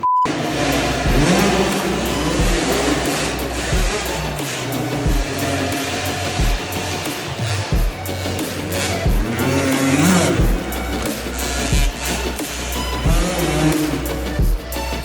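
A small dirt bike engine, a KAYO, revs and drops repeatedly on an indoor motocross track, rising and falling in pitch as it runs close by, loud throughout.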